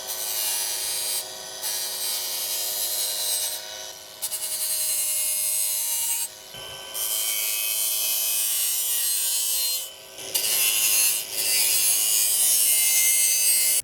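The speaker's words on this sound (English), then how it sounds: "I'm actually going to use the angle grinder and just kind of hone down the edge of this so it's nice and sharp" Seesii 21V brushless angle grinder sharpening the rusty edge of a shovel, a loud close high-pitched whine with harsh grinding, dipping briefly several times as the disc lifts off the metal, no talking.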